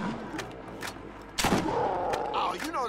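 A shotgun blast in the Borderlands shooter lands as one loud, sharp boom in the middle of a busy game soundscape, with a few fainter thuds and clatter around it.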